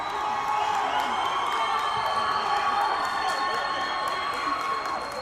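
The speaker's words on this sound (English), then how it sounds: "Listen to the crowd." A stadium crowd at a U15 boys' football final between Woodbridge and Ottawa TFC cheers and roars continuously after a late equalising header, with shouts and whistles rising over the sustained noise.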